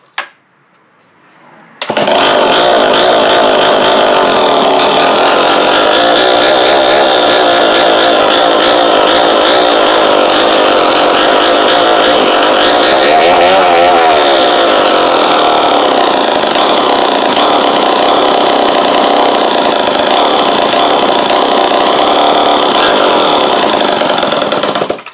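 A Homelite 990 gear drive chainsaw, an old saw being restored and running on prime fuel, starts after a short silence and then roars loud and steady close up for about twenty-three seconds, its engine note wavering slightly midway.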